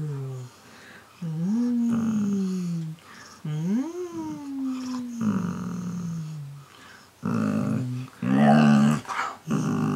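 A puppy growls and whimpers in several separate bursts, with rising and falling whiny tones broken by short pauses, close and fairly loud.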